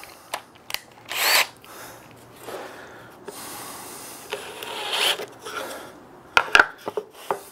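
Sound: drill boring a half inch hole in wood

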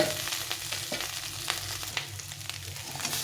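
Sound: boiled potatoes frying in oil

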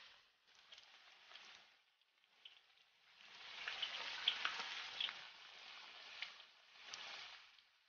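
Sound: deep-frying Sichuan crispy pork (su rou)

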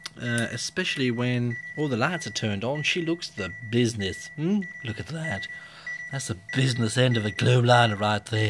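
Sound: electronic beeping

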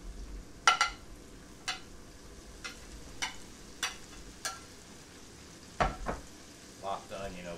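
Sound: Chinese sausage and onions frying in a pan

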